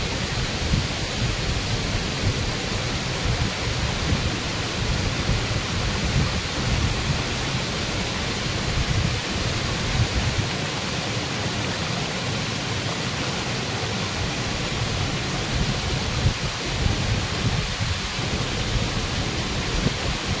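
Rushing water at Ladda waterfall, reached after a trek, fills the whole stretch as a steady, dense roar with no breaks and no voices.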